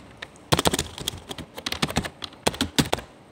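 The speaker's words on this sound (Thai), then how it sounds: "คลิกเข้าไปนะแล้วพิมพ์ว่ารายการนะ" Keys clattering on a computer keyboard in quick bursts of clicks, loud and close, while typing text into a spreadsheet-style quotation form; no talking.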